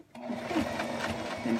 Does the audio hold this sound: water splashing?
no